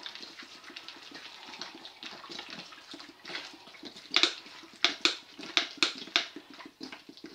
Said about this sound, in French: Donc alors, nous mettons de l'eau.